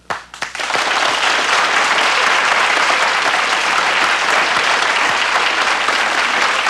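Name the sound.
studio audience applauding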